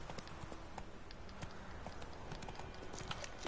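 Horse galloping in The Witcher 3 video game, a quiet, steady run of hoof clip-clops over open ground with faint ambient game sound and no voices.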